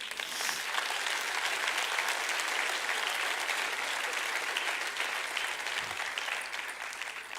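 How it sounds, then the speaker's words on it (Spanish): Church congregation claps in praise of the Lord, a steady, even wash of many hands applauding together across a spacious room, moderately distant and unbroken for several seconds. "Yo pido un aplauso para el Señor."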